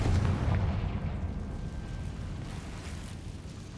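A Confringo fire spell explosion in the Hogwarts Legacy video game, a muffled low boom at the start that fades into a rumbling, crackling tail, heard alone at moderate volume.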